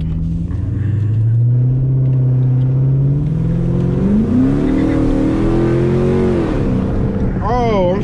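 A car with a 5.7 engine revs and accelerates hard for a drag-racing pull, a loud, close, steady engine drone climbing in pitch as it speeds up, then easing off near the end.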